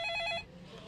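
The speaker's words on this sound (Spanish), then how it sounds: "el teléfono comenzó a sonar" Telephone ringing in a special squad headquarters in 1992, a single short bright electronic ring burst, close and loud, cut off quickly and followed by quiet room noise.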